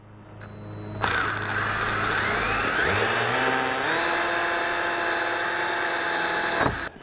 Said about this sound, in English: drill holes in their fiberglass